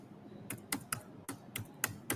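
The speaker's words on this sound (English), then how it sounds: "Now I am typing the right IP address." An IP address is typed on a computer keyboard: a quick uneven run of about eight crisp key clicks, close and clear against a quiet room.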